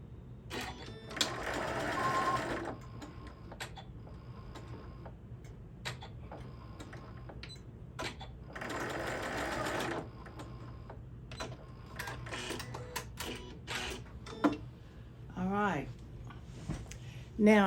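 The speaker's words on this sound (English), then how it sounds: "So we're going to sew through that." A sewing machine stitches through a baby tote bag in two sustained bursts of whirring, with ticking and clicking handling noises between them and brief talk near the end.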